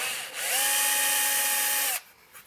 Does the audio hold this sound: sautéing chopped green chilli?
no